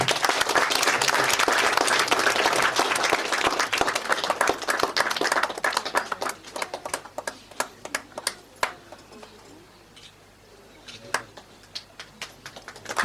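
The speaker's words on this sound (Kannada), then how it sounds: "ಜೋರ ಚಪ್ಪಾಳೆ" A crowd at a film premiere function applauds loudly with a thick, sustained burst of clapping that gradually breaks up into sparse individual claps toward the end.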